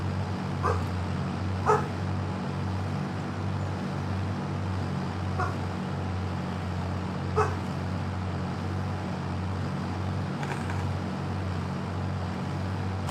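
A dog barks a few times from a distance, short yips spaced several seconds apart over a steady low engine rumble, as on a farm during planting work.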